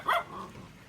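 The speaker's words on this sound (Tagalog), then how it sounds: "Ay, may aso." A single short, close dog bark rises sharply at the start and tails off quickly into quiet background.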